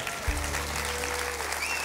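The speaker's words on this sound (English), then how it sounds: "Give your neighbor a great hand clap for being there." A church congregation applauds at a Sunday service, a dense, steady wash of clapping that fills the room throughout the short moment.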